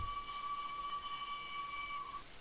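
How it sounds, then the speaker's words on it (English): Steam whistle number seven of an LNER A4 locomotive in Train Simulator Classic, in the style of Flying Scotsman's, sounds as one sustained chime-like blast held steadily for about two seconds, clear and prominent over a faint background hiss. "Sounds like Flying Scotsman's whistle, doesn't it?"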